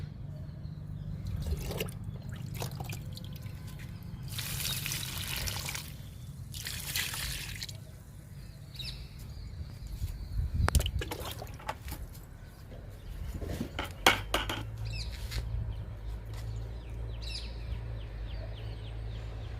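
Homemade liquid fertilizer of lentils, gram cake, tea powder and egg powder poured onto sweet lemon and other fruit plants, with intermittent splashes and drips over a low background hum, a few louder gushes midway.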